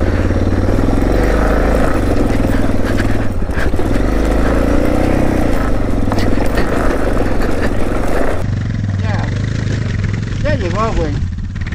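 A dirt motorcycle's engine under steady throttle, dragging the bike over an obstacle on an off-road trail. It drones loudly and continuously, with wind buffeting and a short change in tone near the end.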